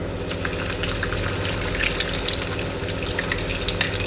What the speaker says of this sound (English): all we're going to do is shallow fry these off